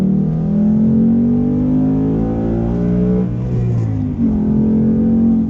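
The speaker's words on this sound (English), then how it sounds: "it's the highest revving Mustang of all time as well" A 2018 Ford Mustang GT with the Performance Package and six-speed manual revs hard under acceleration, a loud, close, continuous engine note with pitch climbing steadily before dipping and rising again near the end.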